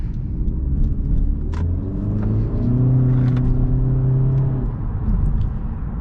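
A 2017 Honda Civic Hatchback Sport with a 1.5 liter four-cylinder turbo engine accelerates after a right turn, its engine drone rising steadily in pitch under a constant road rumble, heard from inside the cabin with no talking.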